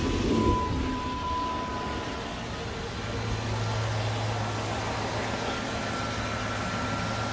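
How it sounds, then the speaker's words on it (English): A car engine hums steadily at idle, a low continuous rumble close by with no voices. "I go ahead and turn on the car."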